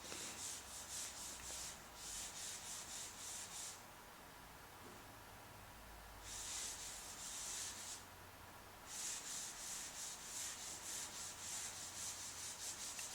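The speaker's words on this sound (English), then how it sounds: "I use a 3M sanding block, angled sanding block." Drywall compound sanded by hand with a 3M angled sanding block while skim coating, close rhythmic rubbing strokes in repeated bursts with short pauses between them, faint and steady.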